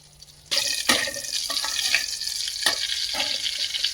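Butter and oil melt in a pan for paneer masala, giving a steady, fairly loud frying hiss with a few sharper crackles and pops over it.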